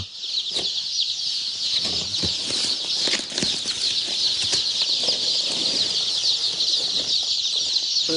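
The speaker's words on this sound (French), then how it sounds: "Ce jour-là, l'éleveur a racheté des poussins." Hundreds of day-old chicks fill a poultry barn on a farm with a dense, continuous chorus of high-pitched peeping. The sound is loud and close, with occasional rustling and knocks, and no talking.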